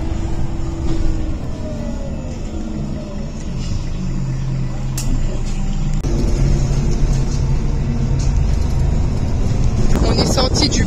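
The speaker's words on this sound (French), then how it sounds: "il y a beaucoup de vent, je ne sais pas si vous allez m'entendre" Strong wind buffets the microphone outdoors just after stepping off a bus, a loud rumbling gust noise that continues throughout while a person talks over it and traffic passes nearby.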